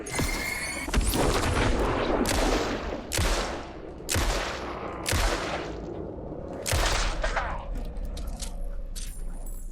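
Shotgun blasts in the video game Alan Wake 2 come loud and close, about seven booming shots spaced roughly a second or more apart, each with a long ringing decay.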